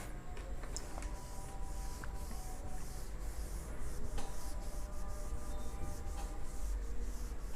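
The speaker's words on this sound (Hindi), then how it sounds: "मैं इसको आपके यहाँ पर रब कर देता हूं।" Eraser rubbing chalk or marker off a classroom board, a steady scrubbing texture that runs throughout with a few small knocks, fairly quiet and with no talking.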